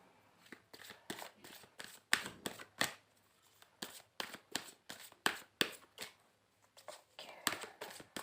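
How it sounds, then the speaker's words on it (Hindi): Tarot cards are shuffled and drawn by hand for a Hindi reading, a run of quick, close papery riffles and flicks with short pauses between bursts, soft overall. "सबसे पहले हम गाइडेंस के लिए कार्ड निकालेंगे एज यूजुअल"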